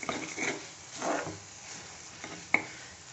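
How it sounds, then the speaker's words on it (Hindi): Masala for Punjabi-style paneer makhani being stirred and fried in a pan, with intermittent scraping strokes of a spoon against the pan and a faint sizzle underneath, close by, ending in one sharp clink. "ताकि इसे भूनने में आसानी होए और अच्छे से ये मसाला भून जाए"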